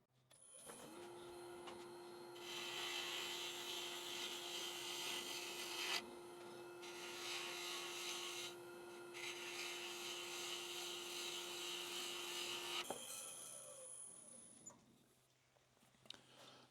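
Light finishing cuts on a white walnut bowl spinning on a wood lathe, with a steady motor hum and a tool scraping the wood in several passes of soft rasping, then the motor winding down.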